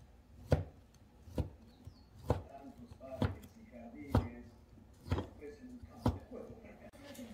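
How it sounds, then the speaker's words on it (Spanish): Knife chopping sausage on a cutting board with seven evenly spaced sharp chops about a second apart, close and clear, with faint kitchen background. "A mí me gusta cortar la salchicha más o menos así"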